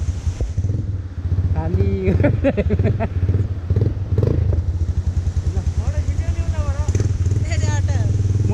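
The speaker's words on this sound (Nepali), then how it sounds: "साउन्ड चाहिँ खतरा आइरहेछ है बुलेटको" A Royal Enfield Bullet motorcycle engine thumps steadily and loudly up close, its low rapid beat running throughout while someone talks over it.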